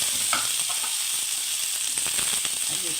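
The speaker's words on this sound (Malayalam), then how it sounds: "സവാള അരിഞ്ഞതൂടെ ഇട്ട് കൊടുക്കാം." Chopped onions fry in hot oil in a pan with crushed ginger and garlic, giving a steady, close hiss of sizzling with faint scattered crackles throughout.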